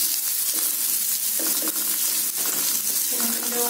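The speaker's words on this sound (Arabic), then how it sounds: "كنخليو البصلة تشحر" Onion frying in oil gives a steady bright sizzle with light crackles and a few soft stirring clinks throughout.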